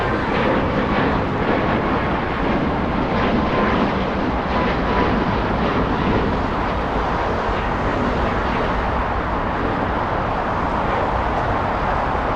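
A United Airlines Boeing 737 jet departs LAX, its engines giving a steady broadband roar that stays loud and even throughout, with distant airport traffic beneath and no voices.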